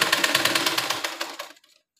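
Sewing machine running a rapid stitching burst on blouse fabric, close and fairly loud with a steady mechanical clatter that stops abruptly before the end.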